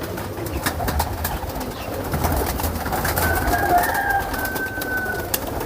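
Soft, low cooing of high flyer pigeons amid a busy outdoor background in Jhalawar, with scattered fluttery sounds and a faint higher whistle partway through.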